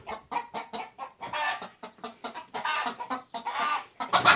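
Hens cluck steadily and close by inside a goat enclosure, a busy run of short throaty clucks overlapping one another with no pause.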